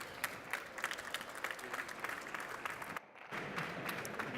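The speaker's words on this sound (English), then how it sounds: "please give the both experts great applause" Audience applause for two experts at an industrial additive manufacturing conference, a steady dense clapping from a crowd that briefly drops out midway before resuming.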